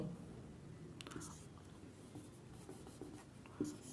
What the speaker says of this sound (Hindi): फिर एक सेंटेंस लिखता हूं